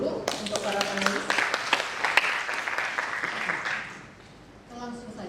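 Audience applause for the panelists at a women's movement and decolonization symposium session, a steady burst of clapping with a voice over it that fades near the end before talking resumes.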